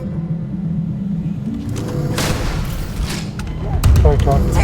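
A turret fires in Starfield on Very Hard difficulty, with heavy booms and rumbling blasts layered among gunshots and combat noise, growing louder toward the end as a voice talks over it.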